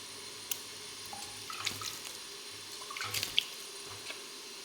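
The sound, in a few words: water being added to dough mixture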